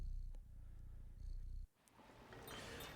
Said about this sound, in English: That's really nice, that purring.